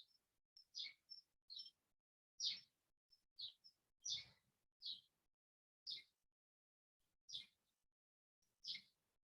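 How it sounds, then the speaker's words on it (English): Birds chirping in short, separated bursts of song, fairly faint against a quiet background, with brief pauses between calls. "You can hear all the birds, very nice"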